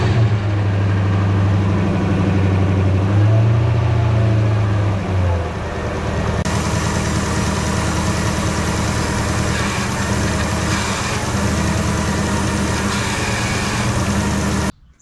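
A Lexus GS400 engine, freshly fitted with an SC430 power steering pump, cranks and catches partway through, then settles into a steady, close, even idle that continues until the sound cuts off.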